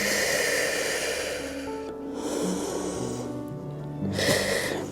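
Deep, audible breaths during a home pilates workout, with a breathy, hissing exhale swelling and fading in two or three long waves over steady background music.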